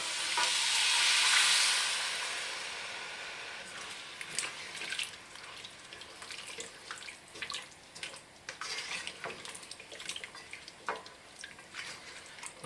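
Bouillon pours with a bright splashing rush into a pot of green tomato, potato and pea curry, then gentle stirring, clinks and soft sizzling bubbles continue, close and fairly quiet.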